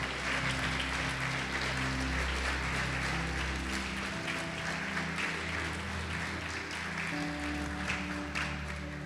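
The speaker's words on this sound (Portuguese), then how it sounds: "Pode aplaudir e glorificá-lo." A church congregation applauds at a tithing sermon, continuous broad clapping over sustained keyboard chords, moderately loud and steady throughout.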